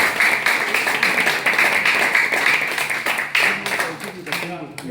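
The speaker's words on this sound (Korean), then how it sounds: "우리 외교안보 팀에 대해서 한번 박수 한번" A lecture audience claps for a diplomacy and security team at a talk on international affairs, a dense, steady patter of many hands that carries on throughout with voices mixed in.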